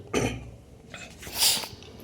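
Two sharp coughs close by from a person with a cold and fever, one near the start and a second, higher and raspier one a moment later, with quiet between them.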